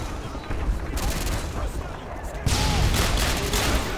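Grenade explosions in the video game Modern Warfare 2, with sustained loud crackling gunfire and a heavier burst of blast noise halfway through that stays dense and harsh to the end.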